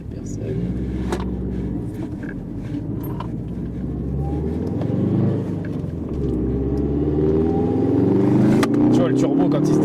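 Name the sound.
car accelerating with turbo kicking in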